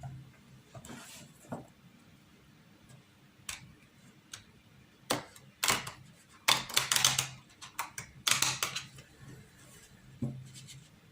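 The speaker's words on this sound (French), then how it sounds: "je range un peu mes cartes là" Tarot cards being tidied and gathered on a table, a scattered series of soft taps and brief papery shuffles that come in small bursts among quiet gaps.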